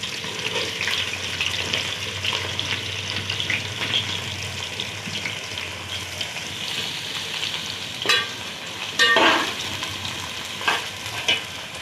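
Cumin, fenugreek seeds and onion sizzle in 200 grams of hot mustard oil, giving a continuous close frying hiss with a few sharper bursts of crackle and stirring clatter toward the end.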